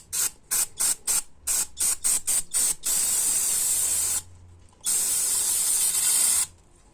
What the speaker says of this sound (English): let's see if I have brake cleaner right here